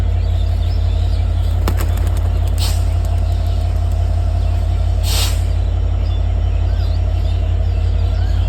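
Racing pigeons released for a long-distance race give a few short bursts of flapping wings over a steady low rumble of wind and traffic.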